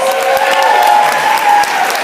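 At a management conference, a crowd breaks into a loud, full round of applause, dense clapping filling the room close up, with a faint steady tone running beneath it.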